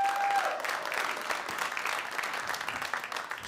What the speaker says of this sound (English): Just a sad applause.